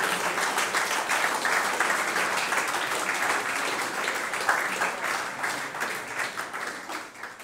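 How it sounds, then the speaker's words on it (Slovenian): An audience applauds student award recipients at the Zlate petice 2016 school ceremony in Ravne na Koroškem, a full, even wash of many hands clapping that carries on steadily and thins slightly toward the end. "v znak vašega truda vam 43-tič zaploskamo"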